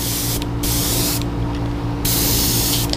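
An airbrush spraying fluorescent green paint over pearl white on a Heddon Super Spook fishing lure, three loud hissing bursts separated by short pauses over a steady compressor hum; no talk.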